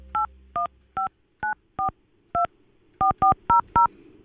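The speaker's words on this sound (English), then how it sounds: "It's hard to dial and talk at the same time." A telephone keypad dials a number, giving ten crisp dual-tone beeps in an irregular rhythm, some spaced apart and a quick run near the end, clear and close against near silence.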